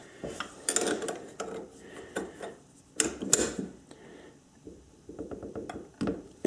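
A lathe chuck jaw is loosened with a chuck key while wedding rings are being made, producing scattered metallic clanks, ticks and ratcheting clicks in quiet bursts.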